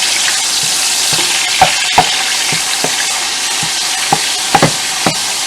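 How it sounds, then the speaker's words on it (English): An onion frying in a pan for a Guyanese hassar curry, a loud close continuous sizzle punctuated by scattered sharp pops and crackles, with no talking. "So we're gonna let our onion fry up a bit."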